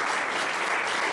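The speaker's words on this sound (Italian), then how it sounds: "facciamo loro un bel applauso di ringraziamento davvero" Steady applause from a large gathering at an Italian book presentation, thanking the speakers; dense, even clapping fills the whole moment without a break.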